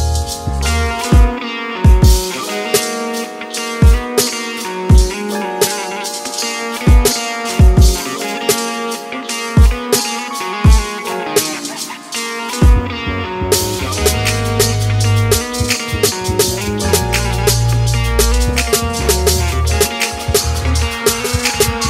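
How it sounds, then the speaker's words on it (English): A smooth hip hop beat with a bass line played in the higher octave and effected to sound like a guitar: a sparse melodic loop over steady kick hits, then a fuller section with deep bass entering midway. "Play the higher octave on the bass, and I'll put like an effect to make it sound like it came from an actual guitar."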